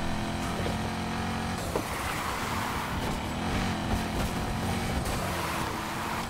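A racing video game car engine revs hard under acceleration, a continuous loud droning roar with shifting pitch that stays dense and unbroken from start to finish.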